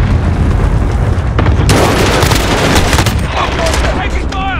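Rapid, loud automatic gunfire and blasts in the multiplayer game Call of Duty Modern Warfare, dense bursts packed closely throughout, with brief voice callouts mixed in.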